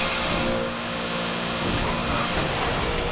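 Racing car engine in Need for Speed: Hot Pursuit (2010) droning steadily at top speed, a loud continuous roar with slight rises in pitch throughout, no talking.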